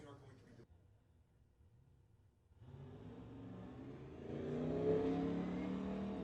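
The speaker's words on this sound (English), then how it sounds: "Matt Robert in the TCS lane from Airdrie, Alberta, 1979 Camaro" A 1979 Camaro drag car in the TCS lane at an outlaw street drag racing event, its engine faint and distant at first, then building and revving louder beneath an announcer's talk.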